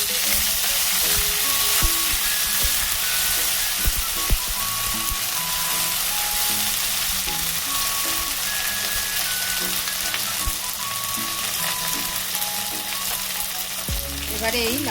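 Ground spice paste hits a hot pan and sizzles loudly and continuously, a dense frying hiss with faint melodic tones in the background and no voices.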